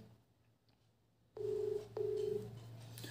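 A Poco phone places an outgoing call, sounding two long, even ringback tones at close range over a low steady hum, with no talking.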